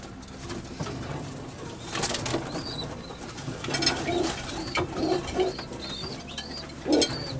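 Breeding racing pigeons cooing repeatedly at close range, soft throaty calls recurring over a background of rustling and faint ambient noise.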